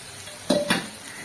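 Paneer dropped into a hot pan: a steady, faint sizzle with two brief, louder scrapes or clatters close by. No voices.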